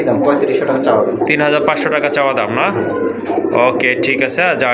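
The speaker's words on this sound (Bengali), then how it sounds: "এটা হচ্ছে মাদ্রাজি গড়া কবুতর মার্শাল্লাহ বিগ সাইজের কবুতর" Madrazi Gola pigeons, a big-sized breed, coo close by, soft throaty calls repeating while someone talks over them.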